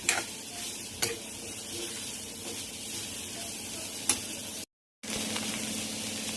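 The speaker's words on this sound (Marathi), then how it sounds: "सुरुवातीला पूर्ण भेंडी मी अशी परतून घेणार आहे, म्हणजे त्याच्यामधलं जो चिकटपणा असेल ना तो पूर्ण निघून जातो." Whole okra being sautéed in a pan with spices gives a steady soft sizzle, broken by a few sharp clicks of a spoon or spatula against the pan.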